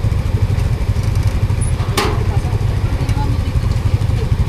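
A motorcycle engine runs close by with a steady low idling rumble, under people talking, with a brief sharp click partway through.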